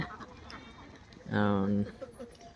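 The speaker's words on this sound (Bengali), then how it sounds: "যে হাঁস খাবার খেতে উঠছে" On a duck farm, a single loud duck quack stands out close by amid a low murmur of other ducks and faint background activity.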